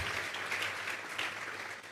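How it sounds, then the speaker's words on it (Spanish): A church congregation breaks into steady, dense applause, a continuous wash of many hands clapping at even loudness from start to finish, with no talk over it. "Vamos a regalarle ofrenda de palmas al Dios de la gloria."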